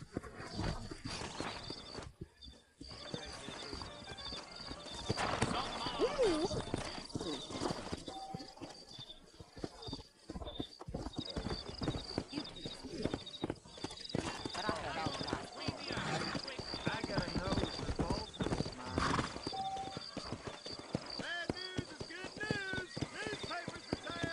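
Horses' hooves clip-clop on the ground in the Red Dead Redemption video game as strong horses are readied, with dense, continuous steps mixed with background sounds and talk throughout.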